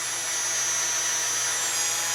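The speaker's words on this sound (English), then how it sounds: "I'll just kind of drill it out nice and slow" A drill runs at steady speed, boring slowly into a part for an RC GMC TopKick truck build. The whine is loud and continuous the whole time, with no talk over it.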